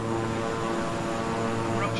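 Steady drone of a King Air 350i twin-engine propeller aircraft in Microsoft Flight Simulator, a constant loud hum with layered engine tones, unchanging throughout.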